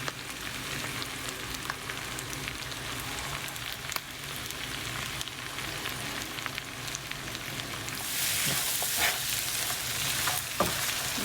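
Kerala-style beef fry with black pepper powder sizzles steadily in a pan while being stirred, giving a continuous close crackle with scraping stirs that grows louder near the end.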